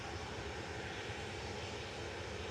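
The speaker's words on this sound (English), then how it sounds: "EasyJet's leaving Loiter's lane." An EasyJet airliner taxiing for departure at Manchester Airport, a steady, faint, continuous engine drone heard from a distance with no other sounds.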